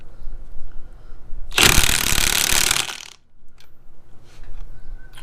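A DeWalt XR high-torque 1/2-inch impact wrench fires one loud, dense hammering burst of about a second and a half between quiet stretches.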